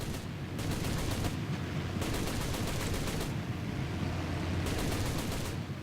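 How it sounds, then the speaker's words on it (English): Machine gun fire from the Cruiser Mk III A13 Mk I tank in War Thunder, three long rattling bursts separated by short pauses over a constant engine rumble. "There you see, I'm shooting at him with my machine gun"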